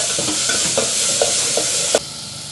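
Tomatoes sautéing in a pan for a drumstick sambar, with a loud, close, steady sizzle and several evenly spaced scraping stirs before the hiss drops sharply near the end.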